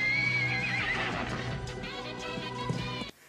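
A white horse lets out a loud, long whinny that rises and wavers, with hooves clip-clopping beneath it. The sound is close and fills the clip before cutting off abruptly near the end.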